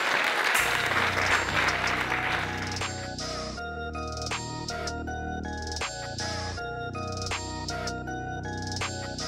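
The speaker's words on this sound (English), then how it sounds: "give yourself a big round of applause" A group bursts into a short, crisp round of applause that fades after a couple of seconds, followed by steady music with a tinkling melody.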